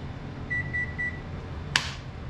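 A microwave oven hums steadily in a kitchen, with a thin electronic beep sounding three times in a row, then a short sharp click near the end.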